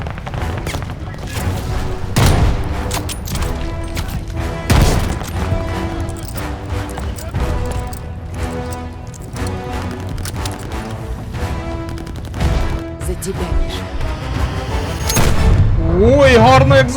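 Rapid bursts of Call of Duty: Vanguard gunfire and booming explosions crackle continuously over a dense, loud backdrop of music and effects, with a few sharper blasts standing out.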